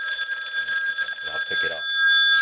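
A 1950s Western Electric desktop telephone, a three-wire model connected to a two-wire house line, rings with a steady, close, continuous metallic bell that fills the clip.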